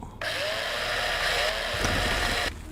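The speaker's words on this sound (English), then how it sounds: "Need my drill." A handheld drill in the space-survival game Breathedge starts abruptly and runs as a loud, steady electric whine for over two seconds, then cuts off sharply; nobody talks over it.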